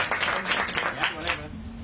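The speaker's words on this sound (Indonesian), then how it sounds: "Tepuk tangan dulu." Audience applause at a discussion event on Marhaenism, a short burst of overlapping claps that rises quickly and fades out within two seconds, with a voice murmuring beneath.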